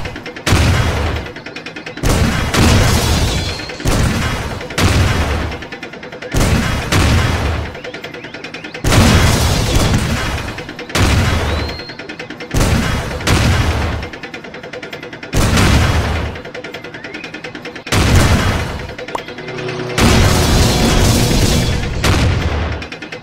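Rocket explosions in the Tanks 2D battle game, a rapid series of loud booming blasts in bursts with short gaps, heavy and close, with occasional talk among them.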